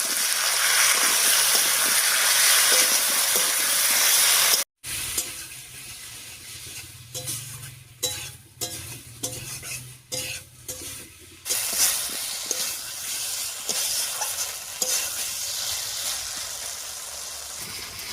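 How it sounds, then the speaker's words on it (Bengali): Tomato, turmeric and salt are mixed in a frying pan. A steady close hiss of frying comes first, then after a sharp break a spatula taps and scrapes in irregular bursts over a lower sizzle. "এবার সব কিছু খুব ভালো করে মিশিয়ে নেব।"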